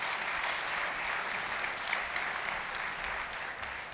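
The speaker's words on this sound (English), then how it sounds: "Are we going to give a round of applause?" Steady, even applause from an audience at a mobile startup awards final, dense clapping holding at a constant level throughout with no voices.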